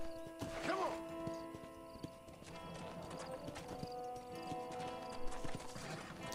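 Horse riding in Red Dead Redemption on PS3, a steady rhythmic clip-clop of hooves with a whinny early on, under game music while someone talks.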